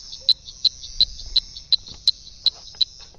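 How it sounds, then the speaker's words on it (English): Frog call in a herpetology recording, a sharp, clicky, high chirp repeated about eight times at an even pace, insect-like and clear over faint background noise. "It's a frog"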